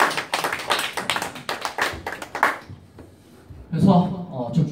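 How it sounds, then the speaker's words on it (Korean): A classroom audience at a civil-service exam prep lecture bursts into quick, dense clapping for a couple of seconds, then it stops and a voice speaks. "한 문제 한 문제 공감할 때마다 박수 한번 쳐주시면 뜨거운 박수!"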